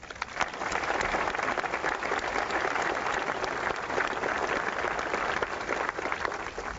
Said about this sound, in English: We applaud you and your shining example